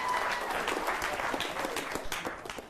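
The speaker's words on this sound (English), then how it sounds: "Let's give him a big round of applause." An audience gives a steady round of applause, a dense wash of many hands clapping at once, moderately distant and continuing evenly throughout.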